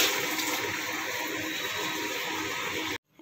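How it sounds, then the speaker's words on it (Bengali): Running tap water pours steadily onto broccoli being washed in a kitchen, a continuous close gushing wash that stops abruptly near the end. "এই যে ব্রোকলি এখন ধোয়া হচ্ছে।"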